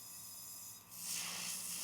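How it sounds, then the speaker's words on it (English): An airbrush gun spraying paint during a nail art workshop: a steady close hiss that swells louder midway and continues, with no voices. "So spraying out the gun again"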